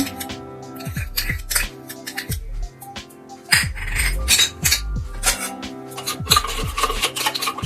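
Chicken marinade with mustard oil beaten in a bowl for a roast chicken, producing close, repeated scraping and clinking strokes in uneven bursts with short pauses between.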